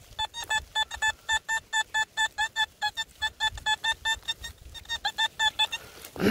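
A metal detector sweeping a field gives a rapid run of evenly spaced electronic beeps, about four per second, steady and fairly loud for several seconds before a brief rustle at the end.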